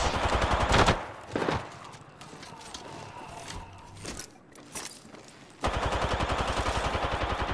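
Rapid automatic gunfire in the video game Apex Legends, loud bursts of close shots at the start and again in a sustained stretch at the end, with quieter scattered shots and game sounds between.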